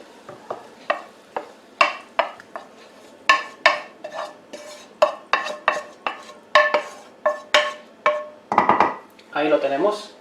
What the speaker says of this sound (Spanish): vamos a mezclar el salteado con el arroz blanco